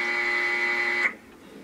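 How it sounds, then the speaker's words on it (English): An HP OfficeJet Pro 6978 printer powering on gives a steady electronic tonal buzz for about a second, which stops abruptly and leaves quiet mechanical background. "Switch on the printer."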